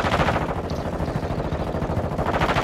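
Rapid automatic gunfire in a first-person shooter video game rattles in a dense, continuous burst, loud and close with no speech.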